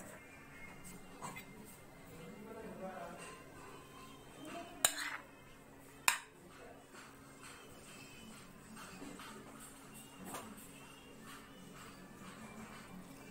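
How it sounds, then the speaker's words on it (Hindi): Chilli sauce and vinegar being mixed in a bowl, soft clinks and scrapes of a spoon against the dish with a couple of sharper knocks, quiet and close, no speech. "चिल्ली सॉस हल्का सा एंड विनेगर। अब इसको हम लोग कर देंगे अच्छे से मिक्स।"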